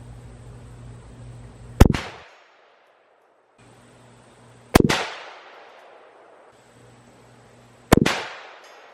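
Three sharp, loud .25-06 rifle shots fired with Winchester Ballistic Silver Tip 115 grain ammunition, evenly spaced about three seconds apart, each a crisp crack with a short ringing decay and near silence between.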